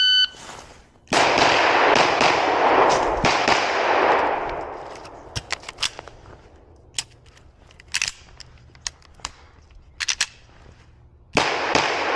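An M&P9 2.0 Metal HD Steel pistol fired from a low position gives loud, sharp cracks spaced a second or two apart, the first followed by a long echoing rumble that fades.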